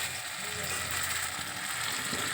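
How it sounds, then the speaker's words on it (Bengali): Onions fry with garam masala in a pan, giving a soft, continuous sizzle close by with faint scraping. "এবার এটা এই পেঁয়াজ ভাজছি গরম মশলা দিয়ে পেঁয়াজ ভাজি"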